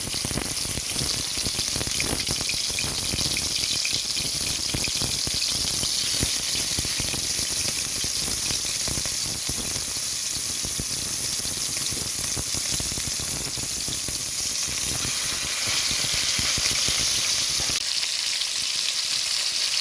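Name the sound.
beef searing in hot oil in a pot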